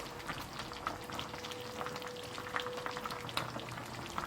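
Chicken with red pepper cooking in a pot without water or oil, giving a continuous bubbling sizzle with scattered pops and crackles at moderate volume, with no voices.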